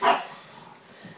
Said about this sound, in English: That's my dogs, by the way.